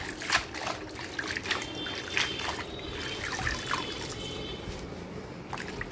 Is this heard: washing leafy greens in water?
yes